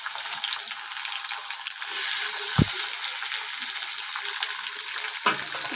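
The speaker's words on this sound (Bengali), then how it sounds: "ভালো করে ভেজে নেবে টমেটো কুচিতে পেঁয়াজ কিন্তু একদম লাল লাল করে ভাজবে" Chopped tomato frying with onions in a pan, a loud continuous crackling sizzle with a couple of sharp stirring knocks, close and without talk.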